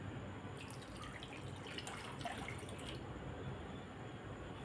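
Water is poured into a simmering sardine fish curry in a home kitchen, a faint, steady trickle and splash running throughout at low level.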